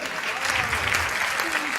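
Enthusiastic audience applause at a live Hindi satirical comedy performance, a steady dense wash of many hands clapping close by, sustained throughout without a break.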